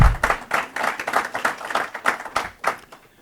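An audience at a Heartland Institute talk breaks into a short burst of applause, close and lively claps pulsing unevenly for a few seconds.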